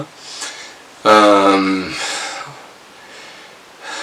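Close, heavy breathing with a loud raspy gasp and breathy exhales, like someone winded.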